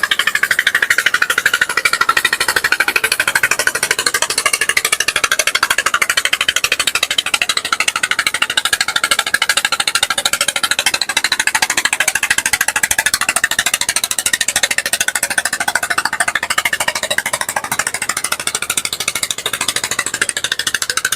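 A loud, rattling passenger trawler boat engine drones steadily nearby for the whole stretch as it departs from beside a launch, fading only slightly toward the end.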